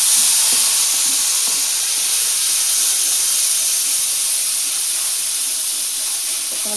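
Spices with cashew and sesame paste sizzling in a pan, a strong continuous hiss and crackle close to the microphone, steady throughout with no talking.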